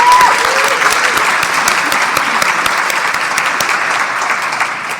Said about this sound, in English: You guys got to keep clapping for me